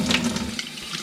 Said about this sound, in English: so really now I'm just giving it a rinse, make sure everything's out in there